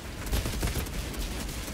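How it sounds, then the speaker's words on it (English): Rapid gunfire from the shooter game Outriders, a dense continuous burst of shots with explosive thumps, loud and close. "Now I can shoot them."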